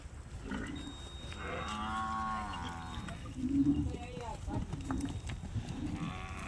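Cattle mooing on a farm, several low drawn-out moos at moderate distance, with people talking in the background.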